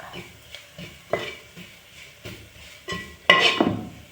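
Chili powder being stirred into beef in a pan: a spoon scrapes and clinks against the pan in uneven strokes over a soft sizzle, ending in a louder scraping clatter, with no voices.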